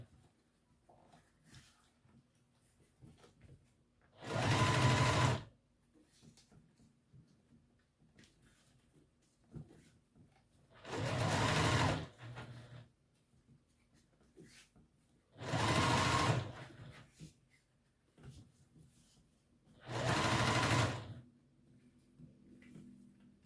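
A sewing machine stitches fabric for a bowler hat in four separate loud whirring bursts of about a second each, with quiet handling noises between them.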